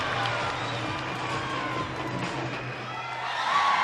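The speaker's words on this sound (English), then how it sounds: "Crowd loves it too" An arena crowd at a women's college gymnastics meet cheers a floor routine, a broad sustained roar with some claps, holding steady and swelling slightly at the end, under a commentator's voice.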